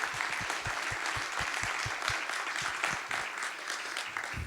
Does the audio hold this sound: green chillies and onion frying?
no